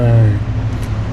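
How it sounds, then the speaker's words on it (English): A neighbor's lawn mower drones steadily behind a car barn, its low engine hum loud and continuous and joined by a brief higher whine. "my neighbor's mowing his yard behind the car barn"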